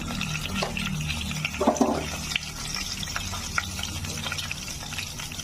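Bay leaves and cumin seeds crackle in hot oil in a pan, a steady sizzle with a few brief pops across the whole stretch.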